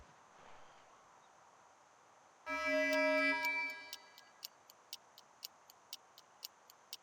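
Planted bomb in a video game ticking in short sharp beeps at an even pace after a brief electronic tone, faint and alone.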